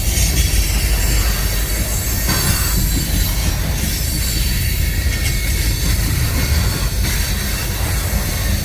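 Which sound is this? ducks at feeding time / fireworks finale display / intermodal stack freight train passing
intermodal stack freight train passing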